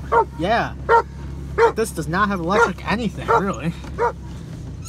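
A dog yips, barks and whimpers in a run of short, rising and falling cries close by, heard over someone talking inside a 2005 Ford Ranger XLT work truck.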